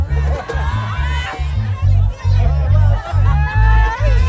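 A big crowd chatters at a live Garifuna radio station event, a dense murmur of voices under a pulsing bass-heavy music beat, with nearby people talking over it.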